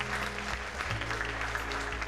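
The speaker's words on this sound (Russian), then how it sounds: "Ваши аплодисменты тем людям, которые помогли мне в постпродакшене." Audience at a film premiere in Thessaloniki, Greece, applauding: a dense, continuous wash of clapping heard up close, steady throughout with a low hum underneath.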